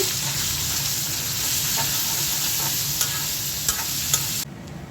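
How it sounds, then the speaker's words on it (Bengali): Onions and prawns frying in a pan over a low gas flame, a constant loud sizzle with occasional stirring scrapes and taps, cutting out abruptly near the end. "পেঁয়াজের সাথে চিংড়ি মাছটাও ভেজে নেব"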